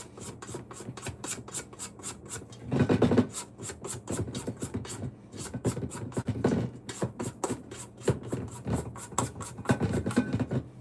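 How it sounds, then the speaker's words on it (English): A spatula scraping cookie dough from the sides of a mixing bowl, a close series of quick rhythmic rubbing strokes, regular and dry-sounding, with a few heavier passes mixed in and no talking. "Let's do a little bit of bowl scraping."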